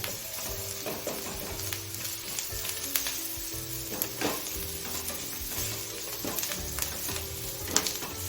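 Garlic paste fries in an onion mixture with red chili powder on low heat, a steady soft sizzle with occasional scrapes of stirring throughout, and no voices.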